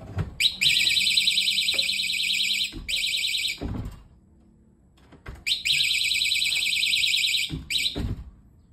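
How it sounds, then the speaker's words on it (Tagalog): A battery-operated security door and window alarm sounds in two long, piercing electronic blasts, loud and close, broken by a short silence and faint clicks between them. "gamit ang door alarm na ito"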